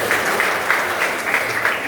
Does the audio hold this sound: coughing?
no